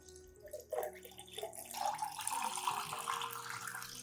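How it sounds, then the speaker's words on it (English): Clean water pours into an aloe vera solution to dilute it into a plant fertilizer, a steady close splashing flow that swells after a couple of faint knocks and runs on without a break. "Add about 1 liter of clean water to dilute the aloe vera solution."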